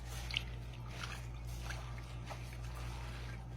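Grated coconut squeezed by hand inside a net over a basin of water to press out milk, giving faint, soft wet squishing and trickling over a steady low hum, with no talk.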